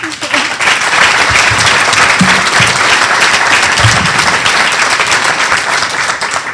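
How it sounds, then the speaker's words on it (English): Dinner audience at a leadership awards event gives a big round of applause, a dense, loud, continuous wall of clapping from a large crowd that holds steady throughout. "give Octavia a big round of applause"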